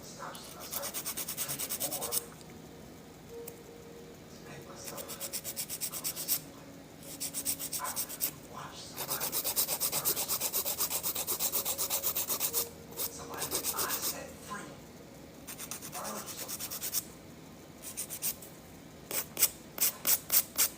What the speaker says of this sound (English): So I'm really only filing like this part.